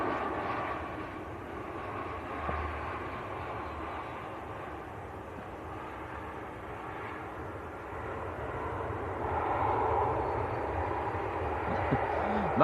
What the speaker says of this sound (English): EasyJet from Geneva. Airbus A320.